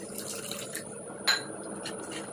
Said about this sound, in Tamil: இப்போ இதில் வந்து நம்ம தண்ணி தான் சேர்க்க போகிறோம்.